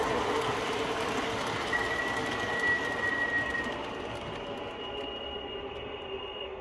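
An MTH model R-40 Slant NYC Transit subway train set runs steadily with a continuous rolling rumble and a faint high whine, easing slightly near the end, with no talk.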